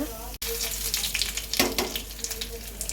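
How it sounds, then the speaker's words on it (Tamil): Steady crackling sizzle of green peanuts sautéing in hot oil, with a brief stir partway through; close and continuous, no talking. "இது பச்சை வேர்க்கடலை, நல்லா வதக்கிக்கோங்க"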